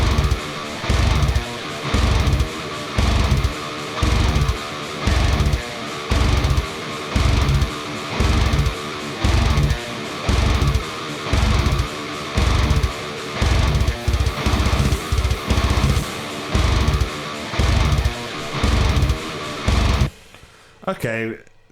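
A song draft plays back with unproduced preset drums: a steady, loud, pounding beat repeats under a dense mix for about twenty seconds, then drops out near the end.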